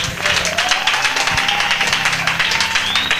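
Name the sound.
congregation applauding in church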